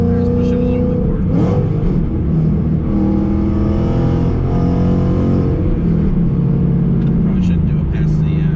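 A 750HP Roush supercharged Mustang GT roars loudly from inside the cabin as it accelerates, a dense, rumbling engine drone running the whole time with voices speaking over it.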